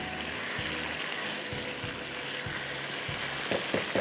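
Chicken sizzles and fries in a pan on a stove over lowered heat, a steady close crackle broken by a few soft clunks of stirring.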